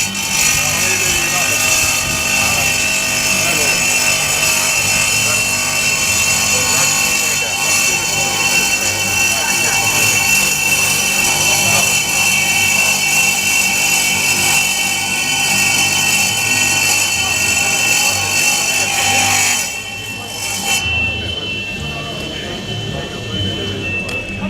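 Diamond tile saw slicing granite tiles with a water feed for cooling, a steady loud grinding whine with running water that carries on for about twenty seconds, then cuts out and leaves a quieter hum.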